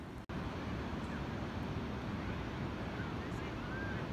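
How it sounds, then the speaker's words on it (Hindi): Steady broadband rushing of a river flowing through a Kashmir valley near Pahalgam, loud and continuous throughout, with a brief dropout near the start and no talking. "इधर नदियाँ बह रही हैं"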